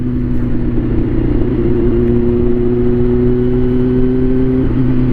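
A Honda CBR400 NC29 four-cylinder motorcycle, revived after more than three years in storage, pulls hard in fifth gear with a loud, close, sustained engine whine that climbs steadily in pitch. Its tone dips briefly near the end.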